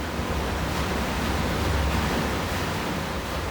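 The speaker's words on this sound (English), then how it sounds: "That is the sound of the water from the artificial glaciers reaching this village in this huge underground reservoir." Meltwater from artificial glaciers flows into a huge underground village reservoir, a constant loud rushing roar echoing evenly inside the chamber, with no voices.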